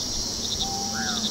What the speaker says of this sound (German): Alter, Grillen.mp3.